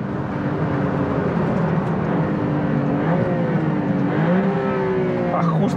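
Alfa Romeo 33 Stradale engine and exhaust through a downshift, a continuous loud drone with shifting pitch heard from the cabin on a road drive, no talking.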